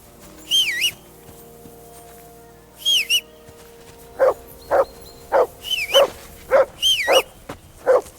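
Dog in Kingdom Come Deliverance II giving high, wavering whines early on, then a steady series of loud, close barks interleaved with more rising whines.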